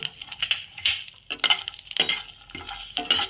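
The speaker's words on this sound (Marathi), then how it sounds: "त्यात आता मी ही लसणाची 10-12 पाकळी टाकत आहे" Garlic cloves fry in a pan, giving a close, crackling sizzle broken by repeated scraping stirs of a spoon against the metal in an uneven rhythm.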